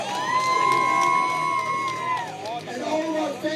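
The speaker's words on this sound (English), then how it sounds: "Make some noise for the Sea Gallery Phuket." Fight-event crowd at a UFC 313 main-event watch party in a Phuket restaurant, cheering and whooping loudly throughout, with a sustained high whistle or shout riding over the roar and excited voices mixed in.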